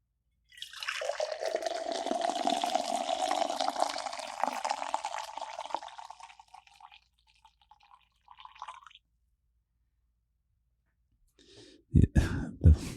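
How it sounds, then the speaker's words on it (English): Coffee poured from a flagon, a steady splashing liquid pour lasting about six seconds, tapering into a thin trickle and a few late drips, followed by a couple of loud clunks near the end. "So I have this flagon of coffee right here. I get to pour it and listen to this."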